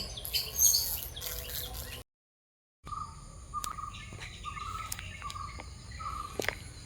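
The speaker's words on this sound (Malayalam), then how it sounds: "കിളികളുടെ ശബ്ദങ്ങളൊക്കെ കേൾക്കുന്നില്ലേ" Birds chirp and tweet in short repeated calls over a soft outdoor background with insect hum, broken by a brief silent gap.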